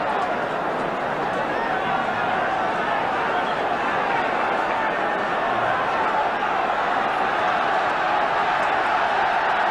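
The Carrow Road home crowd backs Norwich City in a football match against West Brom with a steady, dense roar of chanting and cheering, loud and unbroken throughout, and commentary runs over it.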